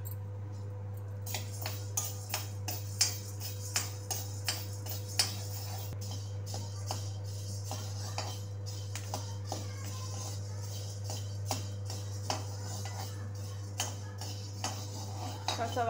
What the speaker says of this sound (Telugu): తర్వాత మిరియాలు వేయించుకోవాలి.